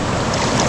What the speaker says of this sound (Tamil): கலிங்கி பாருங்க தண்ணி அந்த இடத்துல விழுந்துக்கிட்டு இருக்கு